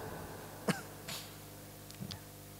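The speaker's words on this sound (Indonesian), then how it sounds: "Batuk lah." Single short cough from a preacher during a talk on prayer, followed by a softer throat sound, faint and close in a quiet room.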